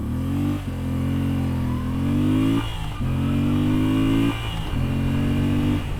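A 2025 Moto Guzzi V7 Sport motorcycle engine revs up hard toward its rev limit several times in a row, each climb followed by a brief dip at the shift. It sounds loud, close and steady, with no talk over it.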